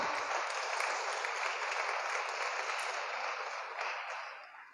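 A church congregation claps during a sermon, a steady dense wash of applause from many people that carries on for several seconds before gradually fading.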